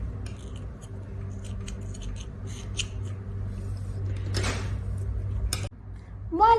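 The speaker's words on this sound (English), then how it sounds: "And then you cut off the end." Scissors snipping the end of crochet yarn, a few short quiet cuts with one clearer snip near the end, over a soft background hum.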